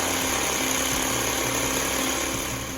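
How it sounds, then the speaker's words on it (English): A food processor grinds spices and ingredients for rajma into a coarse paste, a steady loud motor whine running without pause throughout, with no voices. "Now we will grind all these ingredients to a coarse paste in our food processor"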